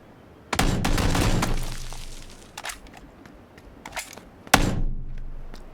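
Gunshots ring out in a PUBG battle royale match: a sharp crack opens a loud burst with a lingering ringing tail, scattered thuds and smaller pops follow, then a second sharp shot lands near the end.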